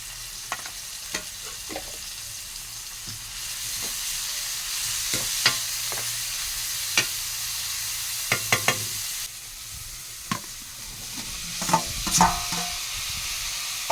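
Vegetables for a potato curry are tempered and fried in a hot pan, giving a steady broadband sizzle and hiss for the whole stretch, with sharper crackles, pops and stirring scrapes scattered throughout.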